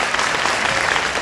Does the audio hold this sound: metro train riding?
no